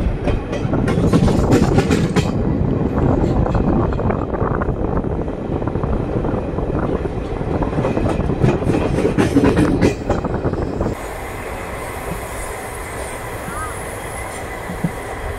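Onboard the 17208 MTM–SNSL weekly express, a loud, steady rumble of wheels and carriages runs continuously, with a quieter, smoother stretch near the end; faint talk may sit beneath it.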